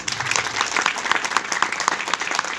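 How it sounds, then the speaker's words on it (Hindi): Loud, fast audience clapping at a women's leadership event, a dense crowd applauding steadily with sharp individual claps standing out throughout the short burst. "उनके लिए भी एक बार जोरदार तालियां"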